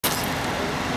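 A rock crawler off-road vehicle at a rock crawling championship revs its engine loudly and steadily while climbing a step, the roar close and continuous throughout.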